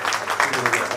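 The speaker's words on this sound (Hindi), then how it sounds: "बहुत जोरदार तालियां।" Dense clapping from a crowd at a book launch event, brief and steady, with voices mixed in.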